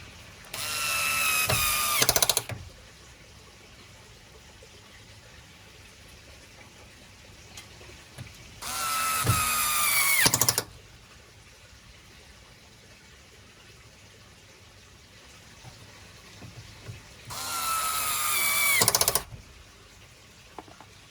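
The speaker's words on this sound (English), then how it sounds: "now I can screw the pump back on" A power drill drives screws to refit the pump on a Beko washing machine, three separate whirring bursts of about two seconds each, close and loud, with quiet pauses between them and no talking.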